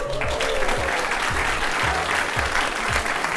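Audience applause at a ballot information party with food and drinks, a steady wash of clapping hands that holds at an even level for the full few seconds, with no voices rising above it.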